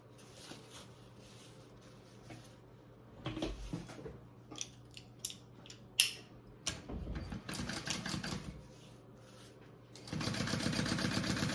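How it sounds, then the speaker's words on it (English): A sewing machine top stitches card slot folds on a fabric travel belt, starting with scattered clicks and handling noises and ending in a steady, close mechanical run of rapid stitching. "I'm gonna top stitch these 2 card slot folds"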